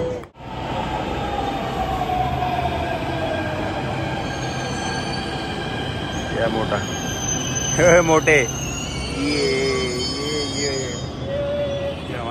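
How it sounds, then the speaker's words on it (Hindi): A Delhi metro train pulls into a station, with rumbling, screeching wheels and a hiss of brakes, while people chat nearby. "ये हमारी मेट्रो आ चुकी है,"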